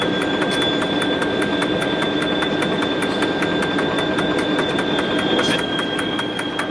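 An SNCF 'Grosse bleue' electric locomotive at Luzy pulls away slowly, producing a loud, steady close-up drone with sustained whining tones and no voices.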